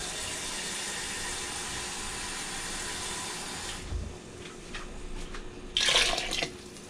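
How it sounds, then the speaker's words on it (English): A steady rush of water pours into a pot for several seconds, then stops, followed by a few small splashes and a brief final gush. "We're going to add more water"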